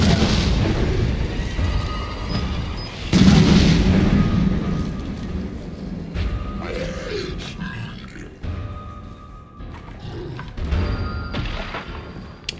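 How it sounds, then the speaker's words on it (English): A heavy, booming explosion from a bomb in the video game Resident Evil 7 bursts out loudly, followed by rumbling, ragged low noise that slowly fades, with scattered thuds and faint background sounds afterward. "Did he seriously just blow up my bomb?"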